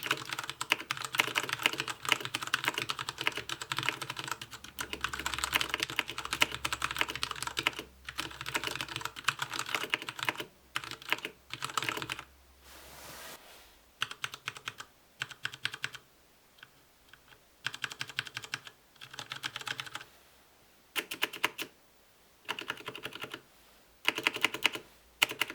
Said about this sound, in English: Here's the typing test with the Cherry MX Browns on a wooden table.